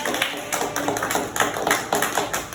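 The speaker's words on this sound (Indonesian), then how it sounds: "Boleh tepuk tangannya dulu buat teman-teman" A group of children clap for their classmates in an elementary school lesson, a steady run of quick overlapping claps close by, rising and falling in uneven bursts.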